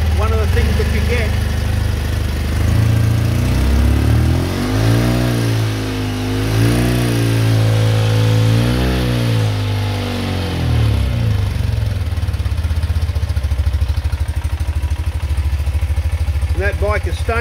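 A cold BMW Airhead motorcycle engine with Wedgetail ignition idles loudly and close, a low, uneven throbbing that wavers and rises in speed before settling, with someone talking over it throughout.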